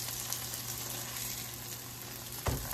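Vegan burger patties sizzle and fry in a pan, a continuous close crackling hiss with a brief clatter near the end.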